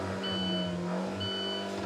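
An Alfa Romeo car launching hard with launch control, engine holding a steady high rev with a sustained tonal drone and electronic beep tones, loud and close, continuous for a couple of seconds without talk.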